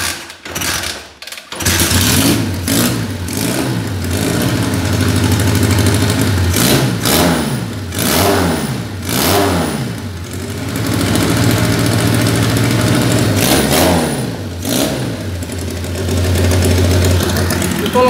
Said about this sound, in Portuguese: Vamos ver se ela pega de novo.